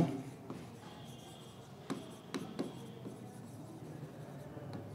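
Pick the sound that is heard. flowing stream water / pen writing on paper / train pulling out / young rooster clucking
pen writing on paper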